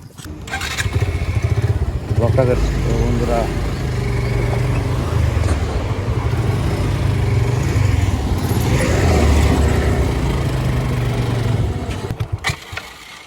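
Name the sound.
motorcycle riding on a road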